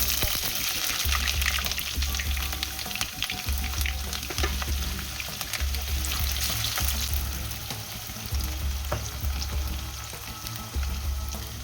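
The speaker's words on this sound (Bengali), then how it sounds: "পেঁয়াজগুলো একটু লাল লাল করে ভাজতে হবে" Finely chopped onions frying in hot oil for a mint chicken curry, a loud continuous crackling sizzle close by with occasional stirring, accompanied by a low rhythmic hum underneath, no voices.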